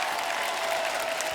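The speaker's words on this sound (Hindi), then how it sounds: "एक बार जोरदार तालियां हमारे मेहमानों के लिए हो जाए" A studio audience on a Kapil Sharma comedy show gives dense, even applause for the guests in a short burst with no pauses.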